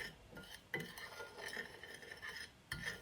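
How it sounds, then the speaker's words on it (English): Cinnamon and sugar being mixed in a bowl: soft, faint scraping and a few light clinks of a utensil against the bowl, close and quiet with no talking. "Just give that a good mix so both cinnamon and sugar are combined nicely"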